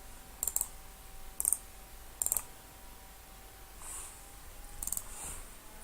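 Computer mouse clicks come in quick pairs and triplets, crisp and close, spaced about a second apart against a quiet room hum with no talking.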